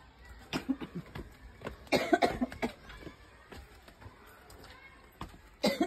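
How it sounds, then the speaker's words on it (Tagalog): Several sharp coughs scattered through the clip, close and fairly loud, with a quieter stretch in the middle and a final burst at the end. "Inuubo pa."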